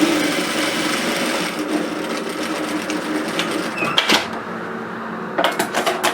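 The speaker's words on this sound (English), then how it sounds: "I'm just going to edge stitch that opening closed" A sewing machine edge stitches the opening of a messenger bag lining closed, running in a steady close whir that breaks into a few short bursts near the end.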